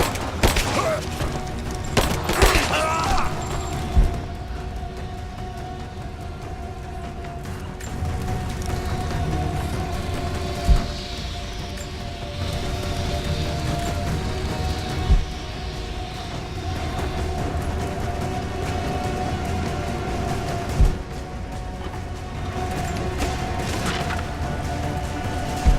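Scattered gunshots in the video game Rise of the Tomb Raider ring out every few seconds over a constant low mechanical rumble, with a cluster of sharp cracks near the start.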